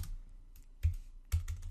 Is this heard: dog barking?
no